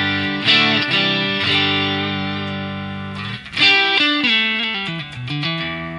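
An electric guitar played through an Orange OR80 amp model in a Helix, clean with the master at full, rings out in sustained jangly chords, then a pause and a run of shorter picked notes and changing chords.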